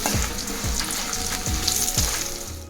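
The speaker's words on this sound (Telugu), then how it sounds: "పోక్ మంచిగా ఫ్రై అయిపోయిందండి" Poppy seeds fry in a pan on the stove with a steady, close sizzle, while a few soft, regular scrapes of stirring sound through it. No one speaks.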